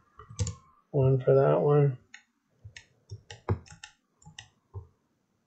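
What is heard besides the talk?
typing on computer keyboard and clicking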